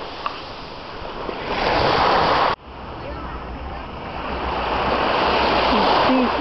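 Mediterranean sea waves wash onto a beach on the Cinque Terre coast, a steady, close, roaring surf that cuts off briefly partway through and then builds again.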